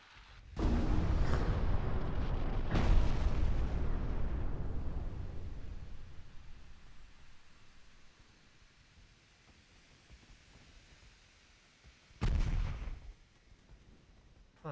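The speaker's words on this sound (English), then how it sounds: "Oh, we got a torpedo hit there." Naval battle in the video game Ultimate Admiral Dreadnoughts, with two booming explosions close together that roll off into a long fading rumble, followed by quiet and then one more sharp blast.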